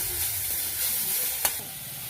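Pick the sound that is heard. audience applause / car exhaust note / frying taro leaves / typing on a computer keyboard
frying taro leaves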